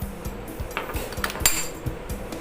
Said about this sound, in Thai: แล้วก็ใช้ค้อนนะครับ ค้อนเบาๆอย่างนี้ครับ